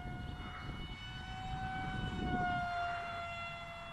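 An RC airplane with its winglets removed flies at half throttle, giving a steady, thin motor whine at moderate distance that swells and fades slightly as it passes, with no talking.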